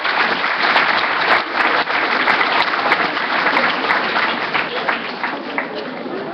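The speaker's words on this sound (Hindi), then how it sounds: "तालियों के महास्वर से हम महापुरुषों का अभिनंदन करेंगे" An assembled audience honours great men with a sustained, loud, even round of applause from many hands, lasting several seconds without a break.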